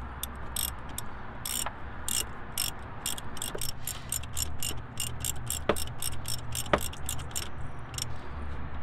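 A hand ratchet clicks in quick rhythmic bursts while an idler pulley is tightened onto a new alternator on an N52-engined BMW, sharp metallic ticks close up over a low background hum.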